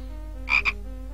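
A game frog from Simon the Sorcerer gives a short double croak, two quick close raspy pulses over a steady low hum, with no talk.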